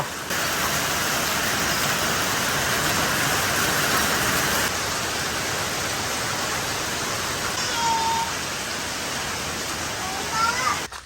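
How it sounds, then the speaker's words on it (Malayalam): Heavy rain pours steadily in a dense, even roar of falling water that stays loud and unbroken, easing only slightly midway. "മഴ അങ്ങനെ അതെ തകർത്ത് പെയ്തോണ്ടിരിക്കണ്ടോ അടിപൊളി മഴ"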